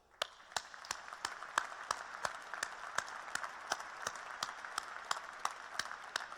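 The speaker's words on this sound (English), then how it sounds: "Now please, shall we give them a round of applause for all their help to you?" A graduation ceremony audience at the University of Lincoln gives steady applause. A wash of many hands holds throughout, with regular louder claps standing out near the front at a moderate level.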